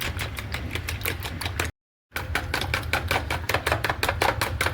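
Four eggs with salt beaten hard in a bowl for an Italian frittata: quick, rapid rhythmic whisking strokes, close and steady, with a brief silent gap midway before the beating resumes.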